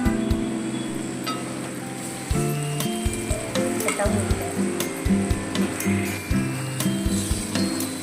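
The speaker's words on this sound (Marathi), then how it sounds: "बटाटा फ्राय झाला" Potatoes fry in a pan with a close, constant sizzle, broken by repeated clattering scrapes and knocks of a spatula stirring at an uneven rhythm.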